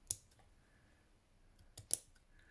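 Two quick snips of scissors cutting crochet thread on a pineapple-pattern piece, crisp and close, separated by a quiet pause.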